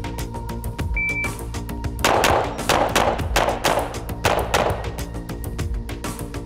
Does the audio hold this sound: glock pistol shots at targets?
yes